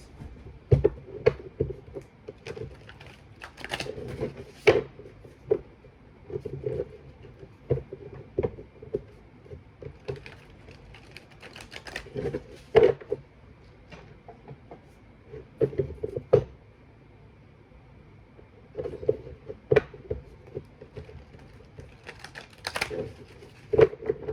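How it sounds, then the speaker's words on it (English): Tarot cards are shuffled three times in separate bursts of crisp, riffling clicks and snaps, each burst brief and close, with quiet pauses between and no talking. "Okay, so I'm going to shuffle the cards 3 times."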